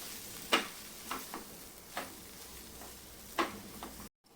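A pea mixture for parathas is sautéed in a pan, with a few quiet scrapes of a spoon stirring at uneven intervals over a faint sizzle, then a sudden cut to silence.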